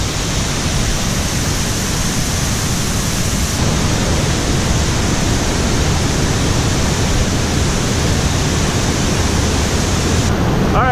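Waterfalls at Havasupai pour in a steady, loud, broadband rush that stays dense and unbroken throughout, close by and with no other sound standing out.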